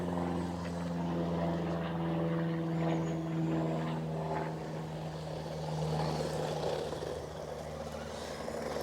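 A cheap Bezgar HM161 1/16-scale RC monster truck runs flat out at full throttle, giving a steady, sustained motor whine with harmonic tones and little variation, heard at moderate distance with no talking.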